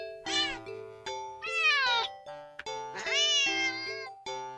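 Insistent cat meows from the Just A Cat video game, four drawn-out, rising and falling cries spaced through the stretch, loud and close with no voices over them.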